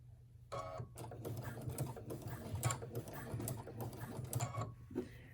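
A sewing machine stitches top fabric onto a ruffle in quick, rattling bursts of needle clatter. The stitching is faint and close, with short pauses between runs.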